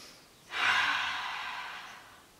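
One deep, breathy exhale or sigh during a yoga strengthening flow, close and fairly loud, rising quickly and then fading slowly, heard alone.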